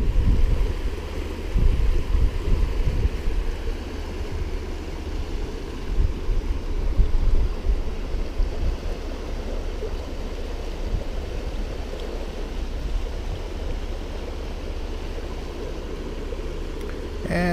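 Water flowing in a stream beneath a rope bridge, which spans a deep pool, makes a steady, broad low rushing that carries on throughout, with some wind or microphone buffeting early on.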